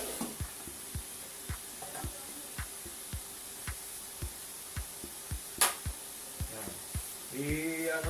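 Pork spare ribs fry in a pan while a wooden spatula stirs them: a steady, close sizzle runs under soft, regular knocks about every half second. A brief bright hiss and a faint scrape come near the end.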